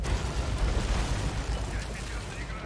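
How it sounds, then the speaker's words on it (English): Artillery barrage in the WWII strategy video game Order of War, dense rumbling explosions and booms rolling together continuously at close range. "The artillery's doing pretty good."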